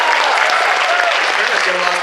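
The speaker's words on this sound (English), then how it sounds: "ladies and gentlemen, another round of applause for Alex" A crowd at the RahCon 2015 cosplay competition gives a cosplayer a loud, dense round of applause: continuous close clapping with some cheering mixed in.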